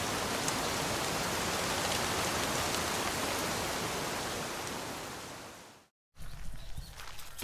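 Steady rain falls on a farm in Morocco during a storm, a dense, loud, even hiss that runs unbroken for about six seconds, cuts to brief silence, then returns briefly in a weaker, patchier form.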